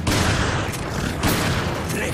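Gunfire from Resident Evil: Revelations, a loud, dense burst of shots and blasts packed closely together over about two seconds, with a short dip in the middle.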